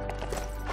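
Horse hooves clip-clopping in the Lego Worlds game, a quick run of rhythmic hoofbeats over a steady low background hum.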